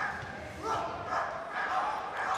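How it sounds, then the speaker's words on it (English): A high school student section barks in chorus at a boys basketball game in a gym, a loud crowd-wide yapping that swells in waves over arena noise. "The Attleboro student section barking"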